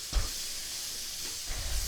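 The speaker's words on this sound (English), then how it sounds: "I'm pretty sure you guys can still hear that pan sizzling." Mushrooms sizzle in a very hot pan, browned to a golden colour, giving a soft, steady frying hiss with a couple of brief low thumps.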